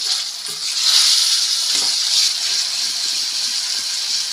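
Raw banana peel paste being stirred into fried onions in a pan, a steady broad sizzle with soft scraping strokes from a spoon, close and continuous, with no talking.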